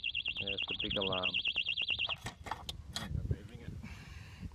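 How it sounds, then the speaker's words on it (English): Kovix KD6 alarm disc lock sounding its alarm, a loud warbling siren for about two seconds, then cut off amid handling clicks and a voice speaking. "there's the big alarm."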